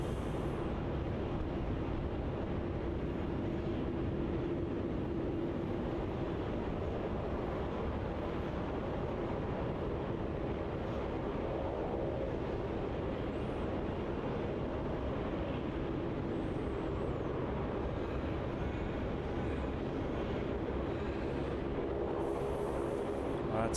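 A low, steady rumble of an airliner taxiing at Melbourne Airport fills the whole stretch, heard from inside the cabin as a constant drone with no distinct peaks.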